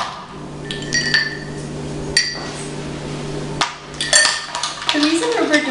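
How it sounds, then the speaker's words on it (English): Clarified butter is whisked with ice cubes in a bowl, giving irregular clinks and rattles of ice and whisk against the bowl over a steady background hum. "first whisking clarified butter,"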